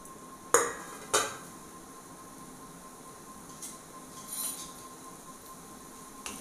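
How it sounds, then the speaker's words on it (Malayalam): Grated coconut and cumin are stirred in hot oil in a pan for a Kerala bitter gourd curry, giving two sharp clinks of a spoon against the pan, then soft scraping and faint sizzle, with no talking. "ഇനി അതിലേക്ക് നമുക്ക് ഈ നാളികേരം ഒന്ന് എണ്ണയിലൊന്ന് വഴറ്റിയെടുക്കാം."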